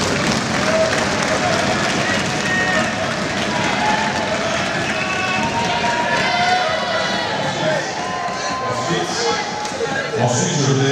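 Delegates at a Congolese security conference evaluating the state of siege break into sustained acclamation applause to adopt commission reports, a dense continuous wash of clapping and crowd noise filling the room with a babble of voices beneath.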